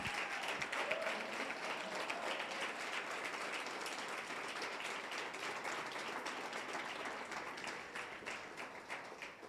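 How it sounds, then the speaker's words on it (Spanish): A church congregation claps for the Lord during a Spanish-language service led by a prophetess, dense sustained applause filling the room at an even, strong level for the full stretch, with no voices over it. "Denle un aplauso al Señor."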